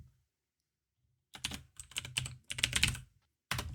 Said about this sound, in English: I got a new keyboard. It's mechanical. It's loud as fuck. It's the loudest one I could find.